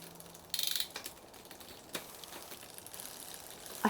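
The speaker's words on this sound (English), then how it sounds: "As I'm moving the barrel adjuster to the left, you should be able to see the chain moving to the left on the sprocket." Ratcheting clicks from adjusting the barrel adjuster on a Brompton 4-speed derailleur, the chain shifting across the sprocket, a short burst of quiet mechanical clicking followed by a few faint isolated ticks.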